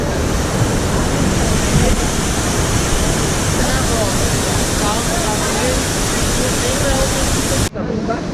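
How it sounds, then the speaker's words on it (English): Loud, steady roar of a waterfall on the Peninsula de Marau in Brazil, close and continuous with broadband rushing water, cutting off abruptly near the end. "We're in the middle of the waterfall now."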